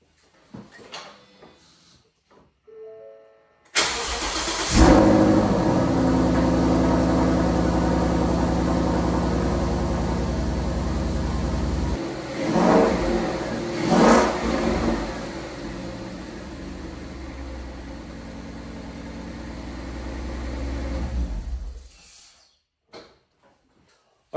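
A 2015-2017 Ford Mustang GT V8 with a repaired intake manifold cranks and fires up, then settles into a loud, steady idle with a couple of revs partway through before shutting off.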